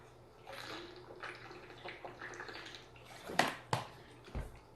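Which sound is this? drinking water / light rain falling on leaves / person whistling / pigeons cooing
drinking water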